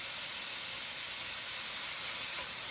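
Garlic added to a hot pan for a light weeknight pasta dish, with sweet red pepper and celery, sizzling as a steady, faint hiss throughout.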